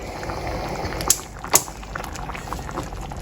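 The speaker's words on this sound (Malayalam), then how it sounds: "അപ്പം ഇതൊന്ന് തിള വന്നു." Vada koottu curry, a Trivandrum sadya dish, bubbling steadily in a pot with a continuous busy simmer and a couple of sharper pops, no voices over it.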